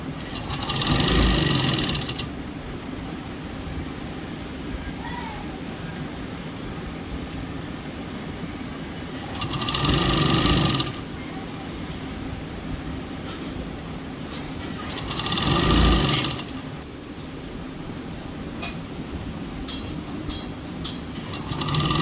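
A sewing machine stitches a door curtain in three separate bursts of fast, rattling mechanical clatter, each lasting a couple of seconds, with quiet room hum in the pauses and no talk.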